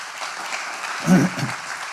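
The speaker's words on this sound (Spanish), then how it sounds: "Dale un fuerte aplauso al Señor ahí." A church congregation applauding in a service, a broad, steady wash of many hands clapping at moderate distance, with a brief low voice or shout rising out of it midway.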